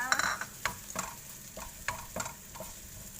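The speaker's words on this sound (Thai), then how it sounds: "เนยเริ่มละลายแล้วใส่ กระเทียมค่ะกระเทียมสับนี่นะคะ ลงไปผัดเลยค่ะ" Chopped garlic stir-fried in melted butter: a soft sizzle with irregular scraping clicks of the utensil against the pan, close and fairly quiet, with no talking.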